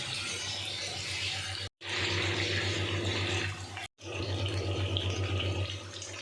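Mutton pieces fry in hot oil with garlic in a pan, giving a steady, loud, close hiss of sizzling that runs almost without pause and breaks off twice briefly.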